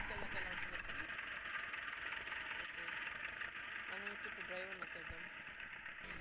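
Indian tractor engine in a tractor simulator video game runs at a steady idle rumble, a continuous mid-pitched drone with a brief tonal flourish over it and someone talking intermittently.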